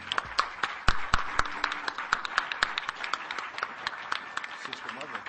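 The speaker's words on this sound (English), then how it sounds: "we want to give them a round of applause" A crowd claps steadily after a call for applause, many separate sharp hand claps forming a dense, continuous patter that carries on for several seconds at a moderate level.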